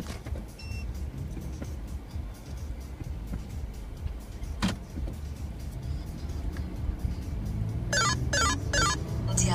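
Silverstone Monaco-S signature radar detector in highway mode sounding a K-band alert against a Binar radar, heard as a few short repeated electronic beep bursts near the end over steady car road noise inside the cabin.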